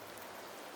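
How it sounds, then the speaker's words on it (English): Rain falling in Septimont in the video game Wuthering Waves, a brief, faint and steady hiss with no voices. "The rains in Septimont never seem eager to leave this season."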